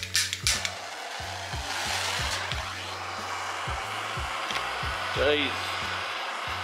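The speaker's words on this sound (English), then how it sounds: "now, we just gotta do a burnout in it" A tire burnout spins through homemade traction compound, giving a loud, steady roaring hiss over rhythmic low thumps, while a voice briefly exclaims near the start.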